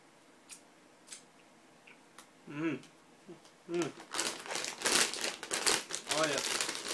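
Crinkling of a bag of Doritos barbecue rib chips, loud dense rustling and crackling bursts that build to continuous crinkling, with brief speech earlier in the clip.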